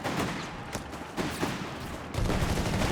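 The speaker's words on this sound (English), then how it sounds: "Main machine gun of the early war German army." An MG 34 machine gun fires in the video game Company of Heroes 3, a sustained rattling burst mixed with other battlefield gunfire, moderately distant, swelling louder near the end, no talk.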